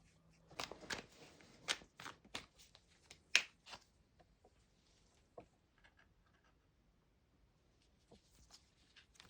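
Tarot cards being shuffled and drawn, heard as quiet, close flicks and slaps clustered early, then a few scattered soft taps in near silence.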